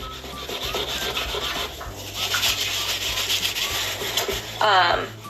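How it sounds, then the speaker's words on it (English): Brisk close scrubbing of a stained fabric sample, a continuous rapid rubbing rasp that swells and thickens midway, with a short squeak near the end. "As I'm scrubbing away"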